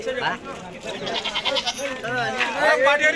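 Several large native goats bleat close by in a wavering, quivering chorus amid the murmur of people talking at a busy outdoor village livestock market.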